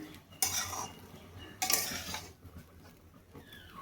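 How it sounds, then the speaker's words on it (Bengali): Egg fried rice being stirred in a pan, with two bright scraping bursts of a utensil against metal over a soft sizzle, then quieter clinks and scrapes, close and with no voices. "এবার আমি ভালোভাবে নাড়িয়ে নেব।"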